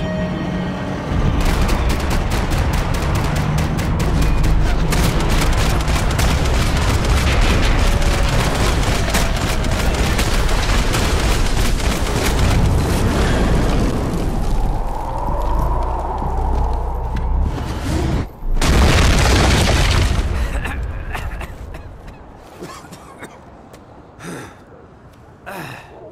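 Gunfire and explosions from the video game Max Payne 3, with dense, loud bursts of rapid shots and booms running continuously, briefly cut off, then resuming before easing into scattered quieter shots.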